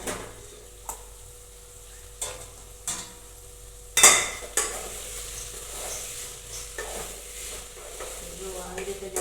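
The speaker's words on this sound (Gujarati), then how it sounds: "જરાક આપણે શાકને હલાવી લઈશું." Eggplant and potato curry stirred in a pan: a low steady sizzle broken by several sharp scrapes and clacks of a spoon against the pan, one louder clatter midway.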